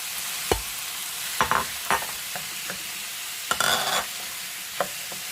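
Onions and tomatoes being stirred in a pan for chicken majboos, with a handful of sharp spatula scrapes and clacks over a faint sizzle, spaced irregularly and close by, with no talking.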